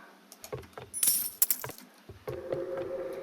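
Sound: coins being collected in Roblox video game

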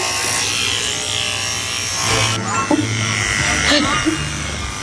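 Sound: electric hair clippers cutting hair

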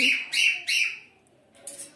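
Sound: pet birds chirping

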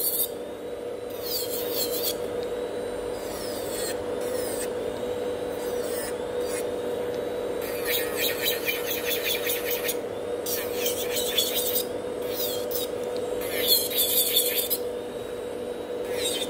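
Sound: filing natural nails at nail salon

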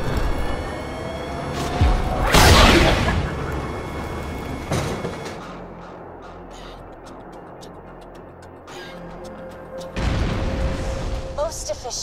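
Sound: cannon firing in a video game

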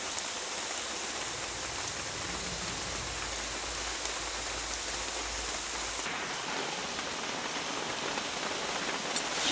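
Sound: heavy rain

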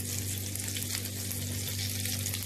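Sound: cube of butter sizzling in hot melted sugar caramel

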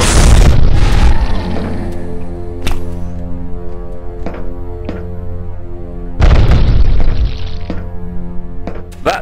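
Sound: grenade explosion in the video game E.Y.E. Divine Cybermancy

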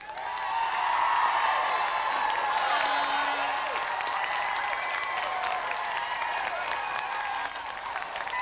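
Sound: studio audience applause and cheering on TV game show

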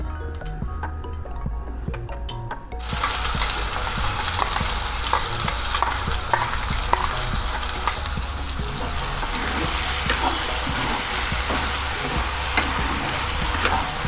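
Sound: sugar added to hot oil, stirring in pan

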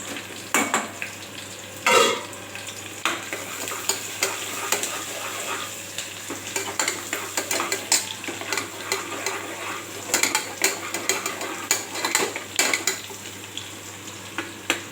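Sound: sautéing onions in a pan

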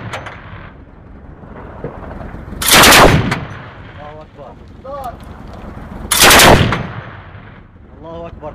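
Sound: gunfire during armed clashes

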